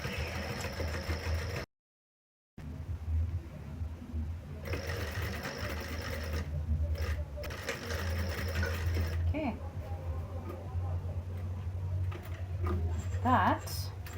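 A sewing machine runs steadily back-stitching a zip pocket on a sling bag, a continuous close mechanical hum and patter with a short pause, while someone speaks over it.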